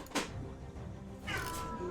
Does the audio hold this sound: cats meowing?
yes